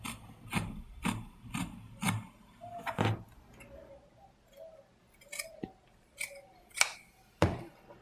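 Scissors snip through fabric folded into four for a homemade face mask, a run of crisp close cuts early on, then slower scattered snips with faint paper-and-cloth rustle between them.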